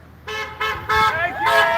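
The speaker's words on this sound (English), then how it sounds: "We're getting some honks." Car horns honk repeatedly at a street protest against lockdowns in Trenton, New Jersey: four separate blasts, the later ones longer and overlapping, heard fairly close amid street noise.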